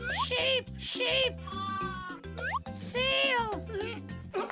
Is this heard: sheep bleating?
yes